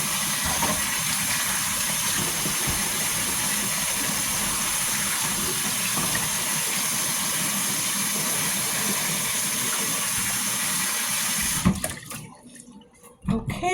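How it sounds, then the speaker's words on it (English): A kitchen faucet runs steadily while a knife and hands are washed under it, a continuous close gush of water that cuts off abruptly near the end, leaving brief quiet handling sounds. "I'm gonna wash my knife and wash my hands"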